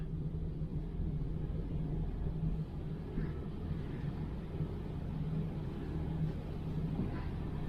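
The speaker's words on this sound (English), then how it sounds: "It's going to talk to you a little bit when you hit lock." A car engine idles with a low steady rumble while the power steering system is bled and the wheel is held at full lock, the pump adding a faint strained whine under the drone.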